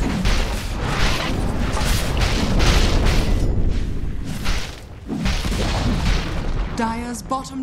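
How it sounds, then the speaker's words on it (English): In Dota 2, a tower collapses amid heavy booming impacts, crashes and whooshes that rumble on for several seconds. A short, tonal announcement-like sound follows near the end. "Dire's bottom tower has fallen"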